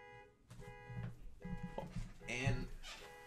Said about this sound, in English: And there's a car that's beeping.